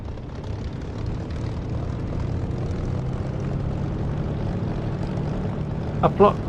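A simulated propeller aircraft engine from the DCS flight game drones steadily as the throttle comes up on the runway for takeoff, a constant loud hum with a couple of brief clicks near the end.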